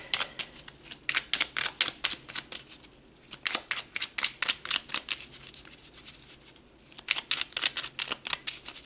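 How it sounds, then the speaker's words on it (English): Tarot cards being shuffled and pulled, rapid crisp riffling clicks in quick bursts with a brief pause between runs, close and fairly quiet, no talking. "Let's pull some more cards."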